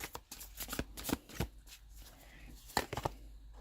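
Tarot cards riffled and shuffled by hand in a rapid papery flutter of repeated bursts, close and fairly quiet, with a soft low hum underneath and no talking.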